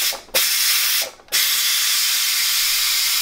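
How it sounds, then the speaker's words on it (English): An Instant Pot vents steam in a loud, close hiss that cuts out twice briefly, then settles into a continuous steady rush. "So what we're gonna do is we're gonna release the steam."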